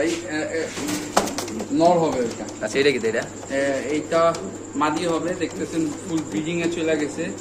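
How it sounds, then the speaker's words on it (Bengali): Pigeons coo steadily at a large fancy pigeon farm that keeps white Spanish pigeons, with soft repeated calls running throughout while someone talks over them nearby. "এখানে আছে সাদা স্প্যানিশ কবুতর"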